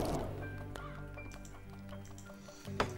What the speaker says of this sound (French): Cet oiseau a peut-être faim.